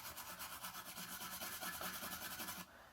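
Sandpaper rubs back and forth over a moose antler shed in quick, rhythmic scratchy strokes, close and steady for a few seconds before stopping abruptly.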